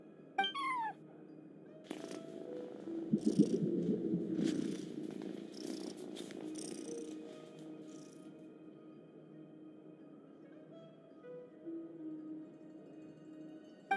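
An in-game cat in Genshin Impact purrs in a low continuous rumble, with a short meow at the start and a few more soft mews, close and clear over quiet game ambience.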